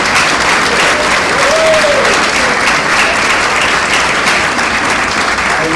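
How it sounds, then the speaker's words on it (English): A congregation at a Unitarian Universalist gathering in Sarasota claps for its new members, a loud, dense, steady round of applause that fills the room without pause. "So let's all give our new members a round of applause"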